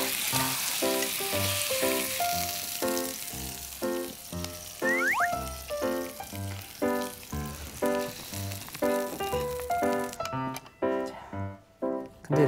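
Meat browning in a pan on a cooking show gives off a steady, close sizzle and frying crackle that runs under background music throughout.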